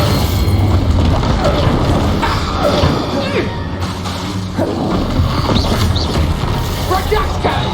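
Spell impacts from Depulso and Expelliarmus in the Hogwarts Legacy video game, loud dense crashes and booming blasts in a continuous roar of battle effects, with shouting voices mixed in throughout.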